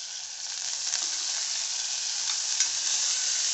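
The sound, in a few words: sautéing tomato mixture for bajra khichdi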